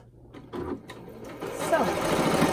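A sewing machine starts stitching delicate tunic fabric after the presser foot is lowered, a few handling clicks giving way to a close, building motor whir while someone talks.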